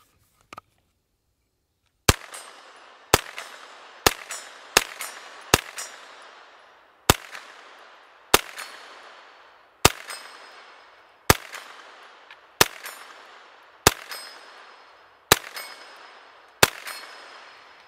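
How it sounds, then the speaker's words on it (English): Ruger PC Carbine fired at a steel target with 124-grain rounds: a dozen sharp, loud shots in an uneven rhythm, each followed by a ringing metallic clang that decays before the next, after a short quiet start. "Let's shoot it a few more times."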